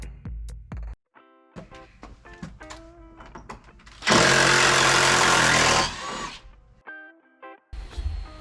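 A power tool drives and tightens fittings on a security screen door for a barn door, with short stop-start bursts building to one loud sustained run of about two seconds near the mic, then brief clicks and a final short burst.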